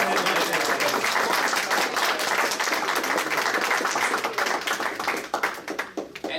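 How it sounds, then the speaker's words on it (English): Sustained audience applause closing a startup founder showcase and investor roundtable in Austin, dense steady clapping from a crowd that thins out near the end. "Let's give another big round of applause to Liberty"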